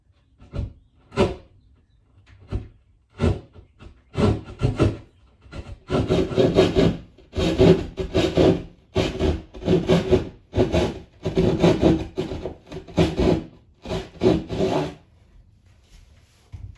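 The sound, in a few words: drywall saw cutting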